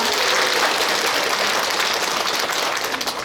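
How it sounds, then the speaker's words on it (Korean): About 142 people at a Buddhist Dharma assembly give a big round of applause, a dense, even clapping roar that fills the three seconds and tapers slightly at the close. "모두 큰 박수 부탁드립니다"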